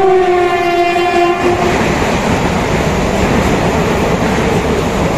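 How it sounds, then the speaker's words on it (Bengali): A train horn sounds briefly, then a loud, continuous rumble and rattle of railcars rolling past nearby as the train arrives at a station platform. "এই যে দেখতে পাচ্ছ ট্রেন আসছে"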